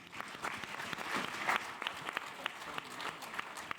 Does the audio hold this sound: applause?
yes